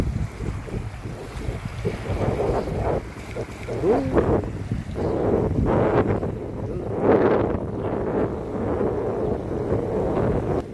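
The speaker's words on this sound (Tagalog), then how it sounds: "Nagaslas ng tubig, oh. Dinig na dinig" Strong gusts roar across a choppy lake, buffeting the microphone while waves splash and slosh close by in uneven surges, with brief voices faintly underneath.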